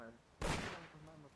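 A single sharp gunshot from a video game cracks out loudly and decays briefly, with muffled voices faintly before it.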